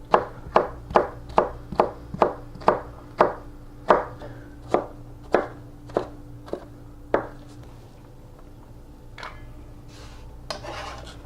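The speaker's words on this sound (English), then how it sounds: "just go ahead and cut yours down the exact same way" A knife chops a jalapeno on a cutting board in a run of sharp, evenly spaced strokes that slow and thin out, followed by a few quieter scrapes and knocks, with no talking.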